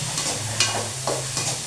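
Oggarane tempering sizzles in a pan, a steady crackling fry broken by a few sharper spits and stirring clinks, close and fairly loud.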